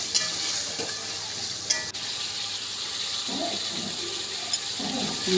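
Boiled eggs go into sizzling, well-fried masala for egg korma: a continuous soft frying hiss with a few faint clinks and some low stirring movement, close by and with no talk.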